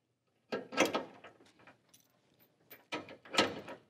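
Tow chains are hooked to the hitch of an Oliver travel trailer with an Andersen hitch. Two clusters of close metallic clinks and rattles are heard, separated by a short pause, with no talking.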